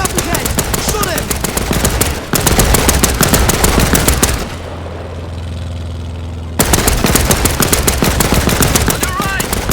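Sustained machine gun fire from the PC war game Land of War, loud dense rapid bursts that cut out briefly midway, leaving a low engine-like hum, before the firing resumes just as heavily.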